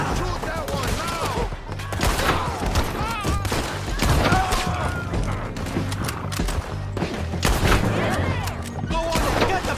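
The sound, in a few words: gunfire in video game Red Dead Redemption 2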